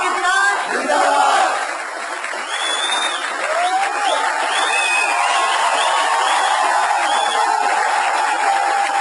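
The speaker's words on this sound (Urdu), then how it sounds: "تالیوں کے ساتھ ساتھ پاکستان زندہ باد کا بھرپور نعرہ" A large crowd at a public rally in Karachi roars and shouts a patriotic chant together, a dense sustained wall of massed voices with cheering and applause mixed in, loud and continuous throughout.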